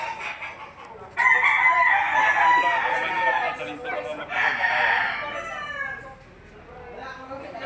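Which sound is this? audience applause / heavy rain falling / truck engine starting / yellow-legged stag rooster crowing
yellow-legged stag rooster crowing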